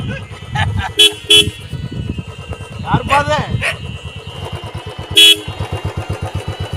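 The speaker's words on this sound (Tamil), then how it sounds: "யாருப்பாது தண்ணி அடிக்கிற இடத்துல வந்து ஹார்ன் அடிச்சுக்கிட்ட." Several short, loud horn honks blare near an idling engine, with a person talking in between.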